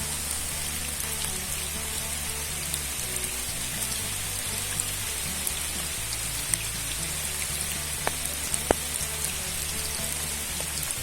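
Dense, steady hiss of heavy rain drumming on a tent overhead at a night fishing spot, with occasional sharper drips and taps standing out.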